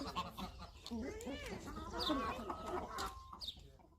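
Chickens cluck in short, overlapping bursts close by, mixed with background talking and yard noise.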